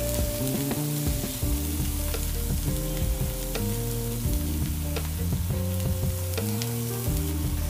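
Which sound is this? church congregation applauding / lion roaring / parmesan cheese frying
parmesan cheese frying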